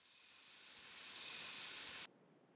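A can of spray paint hisses in a steady, rising spray aimed at a car's back bumper in a video game, building for about two seconds before cutting off abruptly into quiet.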